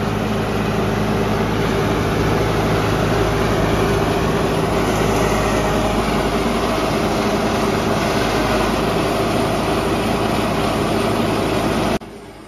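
A forage chopper shreds freshly cut grass into cattle feed on a farm in summer, with two motors running. It makes a loud, steady mechanical roar that drones without a break, then cuts off abruptly near the end.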